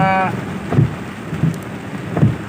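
A sudden heavy downpour of rain gives a loud, steady wash of noise that fills the whole clip, with a few soft low thumps underneath and no voices.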